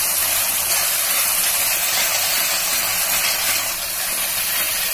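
Ginger garlic paste fries with onions in a pan for a masala soya chaap, a constant, close, hissing sizzle that holds steady throughout.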